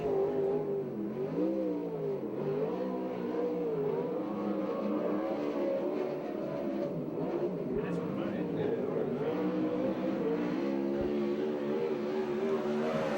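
A USAC/CRA sprint car engine roars through a qualifying lap at Tulare, its pitch rising and falling as it accelerates and lifts through the turns, heard from a distance with a public-address voice talking over it.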